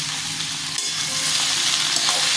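Ash gourd pieces frying in a pan with turmeric and salt, a loud continuous close sizzle with a brief stirring scrape partway through.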